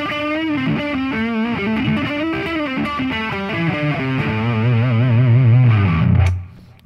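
Electric guitar on its single coil pickup through overdrive plays a sustained, singing melodic line with vibrato and bends, distorted and slightly chorused, ending on a held low note that fades out, with no talking.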